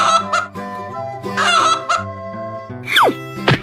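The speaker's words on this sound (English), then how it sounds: "Chicken" Chicken sounds: a series of loud, close clucks and honking squawks that end in a sharp rising and falling crow-like call, with no one talking.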